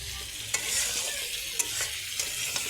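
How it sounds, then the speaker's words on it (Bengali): Raw potato pieces fry in hot oil in a pan while a spoon stirs them, a continuous bright sizzle broken by a few sharp scrapes and clacks of the utensil. "এই যে আগে ভাজে নিচ্ছি, কাঁচা গন্ধটা যাবে গা, তারপরে পানি দিব"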